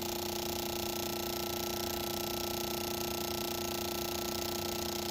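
Cleaned fuel injectors from a Nissan 240SX spraying on a test bench, giving a steady, continuous mechanical clicking and buzzing that holds evenly throughout, close by and fairly quiet.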